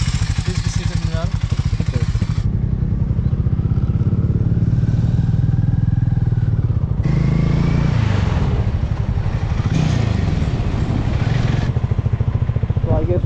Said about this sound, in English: it's my time to ride the Harley Davidson X440